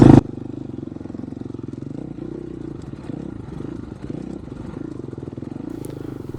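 Dirt bike riding through a set of whoops at the Washougal motocross track, a loud engine note rising and falling continuously as the rider works the throttle over the bumps, with rattling clatter and no talk.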